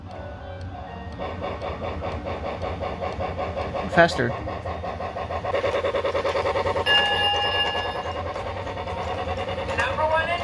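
A Lionel Thomas & Friends toy train set runs steadily on its track with a continuous rattling, clicking mechanical rhythm, close and moderately loud, while excited voices talk over it throughout.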